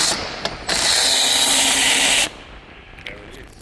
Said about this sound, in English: Now let's remove the 7mm bolt.